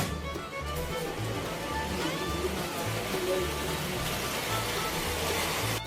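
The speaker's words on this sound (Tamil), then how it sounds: "இப்போ கூட கடுமையான காற்று மழை எப்படி சீறிட்டு பெய்யுதுன்னு பாருங்கள்." Heavy rain lashes down amid strong wind in a thick, unbroken roar that never lets up, with a low rhythmic hum running beneath it and no voices.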